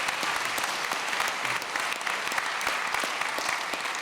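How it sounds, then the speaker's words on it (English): A community audience gives a sustained round of applause for youth speakers at a panel on poverty and displacement, dense steady clapping filling the room with no voices over it. "So if we could just get one more round of applause for Sika,"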